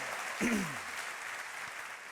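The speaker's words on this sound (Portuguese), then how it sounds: "Pode dar uma salva de palmas ao Senhor" A congregation applauds in praise during a church service, a steady wash of clapping with a voice briefly rising over it near the start.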